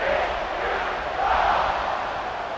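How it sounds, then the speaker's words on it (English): A football stadium crowd roars steadily at a TCU versus SMU game after an 85-yard touchdown drive, a dense, sustained wash of cheering that swells slightly midway with no one speaking close by. "this crowd is feeling themselves after that last drive"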